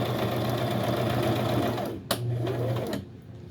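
A sewing machine runs steadily through fabric, briefly pausing and reversing for a back stitch before continuing, a close, continuous whirring hum with a soft click in the middle.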